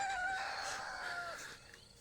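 A rooster crows loudly and close by with a long drawn-out call, followed by softer chicken clucking, as the fowl come down to feed at the water's edge.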